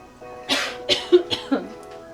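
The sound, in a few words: cough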